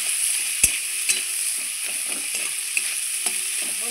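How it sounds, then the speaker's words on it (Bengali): Onion and potato sizzle in a hot pan, a steady frying hiss broken by a few sharp scrapes and clacks of a spoon stirring against the pan, close up with no talk. "এদিকে ততক্ষণ আমার পেঁয়াজ আলুটা সুন্দর করে ভাজা হয়ে যাক"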